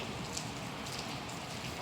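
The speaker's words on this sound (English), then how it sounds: "it's raining." Steady rain falls outdoors, an even, soft hiss of drops spreading across the whole moment without breaks or voices.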